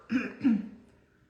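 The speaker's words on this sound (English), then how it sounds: "if you hear me cough" Two quick, rough coughs close together, near and fairly loud, then fading into quiet.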